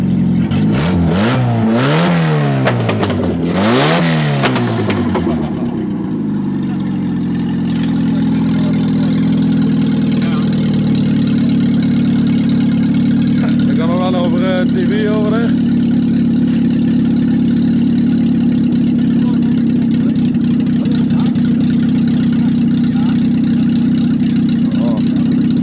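A police car's engine revs sharply a few times up close, then settles into a steady, continuous idle rumble.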